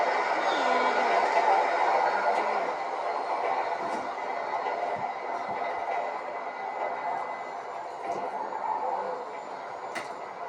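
A train in the video game GTA 5 rumbles steadily and fairly loudly throughout, with a few brief metallic clanks over the continuous rolling noise and no talk.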